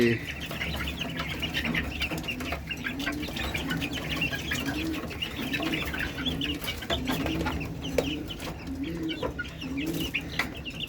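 Hens cluck in a steady, repeating rhythm against a busy farmyard background, with occasional wing flutters and other birds nearby.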